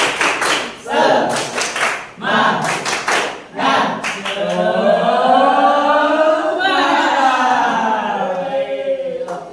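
Rhythmic 'tepuk semangat' spirit clapping by a school class, sharp patterned claps in several bursts, followed by a sustained loud group chant of young voices filling the room.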